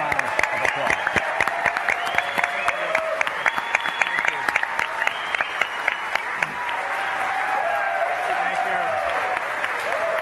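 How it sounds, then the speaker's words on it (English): A studio audience at a Democratic gubernatorial debate in Milwaukee gives the candidates sustained, close applause of dense, crisp claps, while a voice speaks over it. "So let's give everyone a big round of applause."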